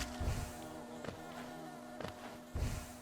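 Low, faint insect buzzing of bees in the video game Hollow Knight, a steady drone with a few soft thuds and swells of louder buzz.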